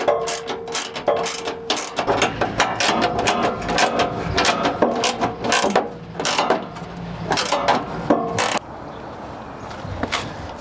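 A ratchet snugs down a rear sway bar bolt on a Jeep Gladiator, giving close, loud, rapid clicking in repeated bursts with short pauses between strokes, with no talking over it.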